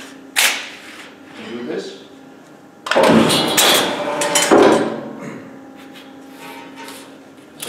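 A CIDAN Rapido metal shear trims a narrow strip of material, giving heavy mechanical clunks and thuds in the middle of the clip while someone talks over them.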